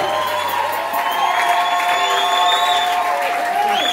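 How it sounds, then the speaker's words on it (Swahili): Sustained applause fills a church as the congregation claps for Veronica, a continuous close crowd roar mixed with cheering and high vocal whoops, holding at an even loudness throughout. "Makofi ya Veronica yako wapi?"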